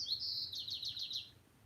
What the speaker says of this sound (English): Can you hear the birdie sound?